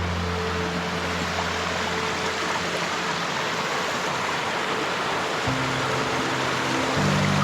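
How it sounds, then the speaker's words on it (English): Small trickling waterfalls near Pistyll Rhaeadr in Wales produce a steady, continuous rush of running water that stays fairly loud throughout, with a low hum joining toward the end. "we've got a couple of little trickles of waterfalls here"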